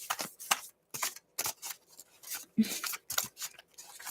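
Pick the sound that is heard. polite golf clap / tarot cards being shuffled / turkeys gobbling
tarot cards being shuffled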